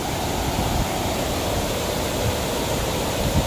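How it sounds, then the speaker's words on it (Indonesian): Water pours steadily over the first spillway drop of the Putrajaya dam, a dense, continuous rushing roar heard up close with no voices. "Ini saringan pertama, air terjun pertama."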